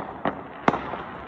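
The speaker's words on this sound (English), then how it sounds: "They still shoot fireworks up, don't they?" Two sharp fireworks bangs pop out over a low background at a New Year 2022 celebration, spaced under half a second apart and followed by a fainter third report.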